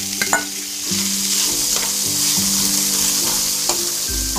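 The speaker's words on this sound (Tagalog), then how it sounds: "Hahaluin lang pong mabuti." Beef stirred in a pan with sautéed garlic and onion, a steady close sizzle of frying with scraping spatula strokes and occasional clinks against the pan, no voices.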